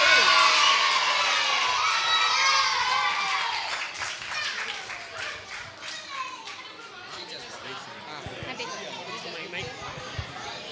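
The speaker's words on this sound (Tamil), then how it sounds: "கைதட்டுங்க எல்லாரும், கைதட்டுங்க" A crowd of children and adults at a VBS final day programme claps and cheers loudly at first, the applause and shouting fading into scattered chatter and calls as it dies down.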